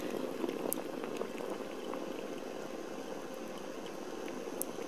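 Water boiling in a pot on a flat induction coil powered by a ZVS driver, a steady close bubbling roil with occasional sharper pops throughout.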